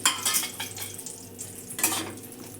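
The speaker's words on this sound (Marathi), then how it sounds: "बटर चांगलं हलवून घ्यायचं" Butter is stirred into hot oil in a pan for masala pav, with a gentle sizzle under intermittent scraping and clinking of a spoon against the pan, close and fairly quiet.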